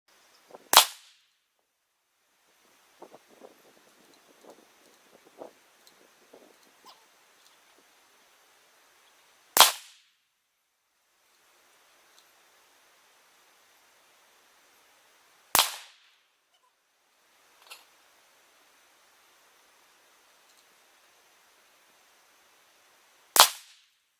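Rifle shots from a Savage Axis firing Armscor .223 55-grain FMJ at 100 yards, four sharp, loud cracks spaced several seconds apart against near silence, with faint handling clicks between the early shots.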